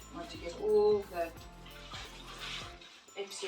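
Washed fabric lining wrung out by hand, soapy water squelching and trickling as it is squeezed, heard beneath a person speaking.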